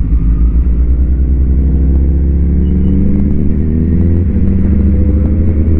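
A Honda CBR1000RR special edition sport motorcycle idles close by with a loud, steady deep engine rumble that runs unbroken throughout, with no talk over it.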